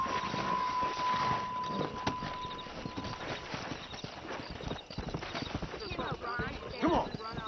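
A horse's hooves clip-clop rhythmically in Red Dead Redemption, continuing steadily throughout with a brief whinny near the end, while a voice talks over the riding.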